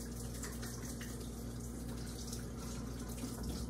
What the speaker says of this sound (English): I'm going to wash my hands again.